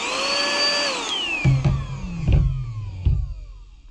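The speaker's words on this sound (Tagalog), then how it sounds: "Tapos na po nating i-test itong ating handheld vacuum cleaner." A handheld vacuum cleaner's motor whines at a steady pitch, then winds down and falls away. A few close thuds and knocks follow as the unit is handled.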